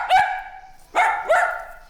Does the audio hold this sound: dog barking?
yes